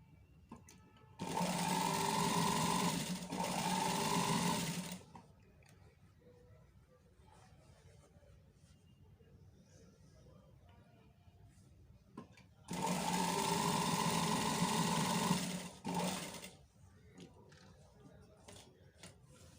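A sewing machine runs two sustained, steady bursts of stitching, each lasting a few seconds, with a quiet pause between them. It is sewing a folded finishing strip turned inside a high neckline.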